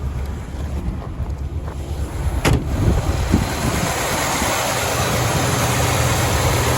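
A 1970 Chevrolet Suburban V8 idles steadily on a gas bottle, a low continuous rumble buffeted by wind noise with no talking.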